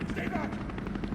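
A helicopter in Resident Evil 3 Remake throbs with a steady rotor chop and engine drone, running continuously while a voice speaks over it.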